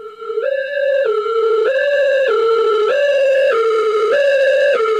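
A two-tone ambulance siren played on a keyboard: a clean electronic tone flips between high and low pitch about every half second, loud and close, repeating steadily with no other sound.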